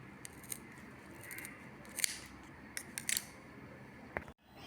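Scissors snipping the uneven edges of a durva grass garland, a handful of crisp close cuts spaced irregularly over a quiet background.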